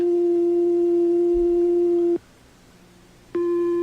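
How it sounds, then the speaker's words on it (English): A steady, pure synthesizer oscillator sine wave tone hums at one pitch, cuts out for about a second, then resumes unchanged. "This is a sine wave."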